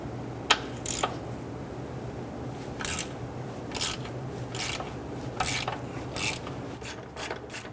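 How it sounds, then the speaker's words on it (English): Ratchet with a 10mm socket loosening a bolt while replacing the starter on a 1994-2004 Ford Mustang 3.8L V6, short bursts of rapid clicking repeating about every second, close and distinct. "Use a 10mm socket right here to go ahead and remove this bolt."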